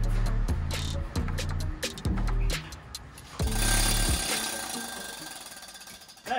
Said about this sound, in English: best thing about the planishing hammer is how quiet and soothing it is.